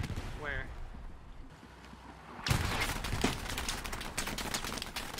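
Gunfire in the Hell Let Loose war game comes as a burst of dense, rapid shots that starts suddenly partway through and keeps crackling loudly. A voice speaks briefly beforehand.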